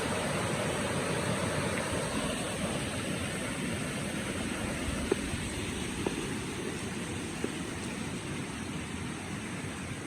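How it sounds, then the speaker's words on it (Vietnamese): A garden stream flows at the foot of the garden in a continuous, even rush of water, steady and fairly close, with a few faint clicks and no speech over it. "Các bạn nhìn suối ha, đây là cái chân suối khu vườn của mình."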